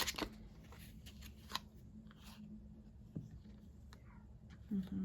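Faint riffling and flicking of playing cards being shuffled, a few crisp snaps scattered across a quiet room.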